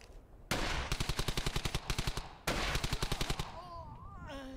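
Gunfire in the World War II shooter game Brothers in Arms: Hell's Highway: two long, loud bursts of rapid machine-gun fire, a brief pause between them, then quieter background sounds with faint whistling tones.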